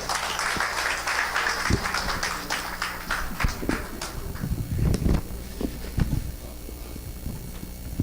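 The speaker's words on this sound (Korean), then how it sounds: "뜨거운 박수 부탁드릴게요." Dense clapping from an audience at a fan club year-end concert on the Tongyeong waterfront, strong at first and gradually thinning into scattered claps and low crowd noise over several seconds.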